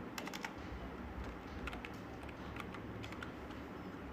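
Rapid, steady keystrokes on a computer keyboard while entering personal details into an HTML form, soft clicks running continuously at close range over a low background hum, no voices.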